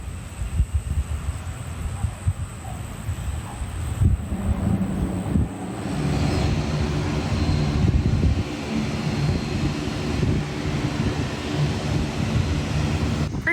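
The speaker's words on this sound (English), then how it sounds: "a plane just happens to be coming in right now" A low, steady engine roar builds and holds across the clip, with wind rumble on the microphone, as an airplane comes in to land close overhead near a runway in Bocas del Toro, Panama.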